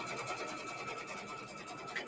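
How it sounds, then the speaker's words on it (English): A sewing machine stitches a placement line for a quilt block, giving a steady, fast mechanical whir that runs unbroken and fairly close. "you can see it stitching out the placement line"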